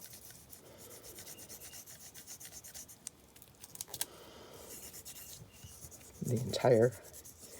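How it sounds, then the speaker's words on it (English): A burnisher rubs back and forth over packing tape laid on an image, giving a continuous close, soft rasping scrub with rhythmic strokes, a brief pause, and a few words spoken near the end. "I'm going to burnish it really well with my burnisher"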